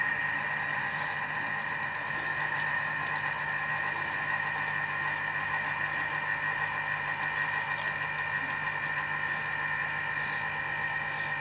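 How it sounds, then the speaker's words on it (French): A Thermomix kitchen machine whirs steadily at speed 3 while mixing cake batter for a Neapolitan cake, producing a constant motor hum with a faint whine and no pauses. "on va venir mélanger le tout pendant 20 secondes, vitesse"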